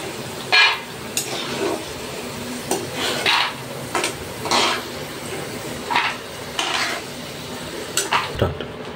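Cashews and peanuts are stirred in a frying pan, a spatula striking and scraping the metal in repeated close clanks every second or so over a faint, low sizzle, with no voices.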